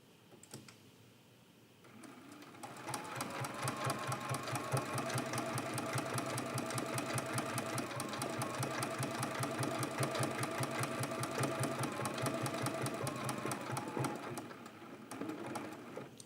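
A sewing machine stitches down appliqué pieces on a quilt block. It starts after a short pause and then runs steadily with a fast, even needle rhythm, close and clear, and stops briefly near the end before starting again.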